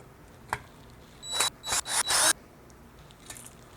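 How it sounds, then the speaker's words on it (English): A power driver backs out screws from a high bay LED driver: a short tap, then four quick whirring bursts in a row, fairly close in a quiet room, followed by a faint final click. "first we're going to take off the 4 screws that are on the driver"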